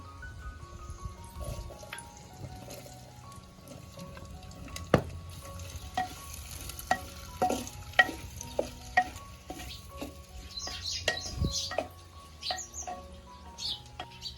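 Finely chopped onion fries in a hot tempering of cumin and byadgi chili for a Maharashtrian village-style dal kanda dish, a quiet continuous sizzle with scattered utensil clinks and faint birdsong in the background.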